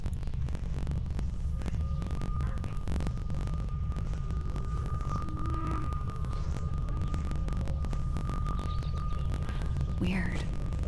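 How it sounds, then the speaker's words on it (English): Someone hums a wordless tune inside the mystery game Tangle Tower, soft and steady over a constant low throbbing drone and a faint sustained tone, with no speech. "It's someone humming a tune."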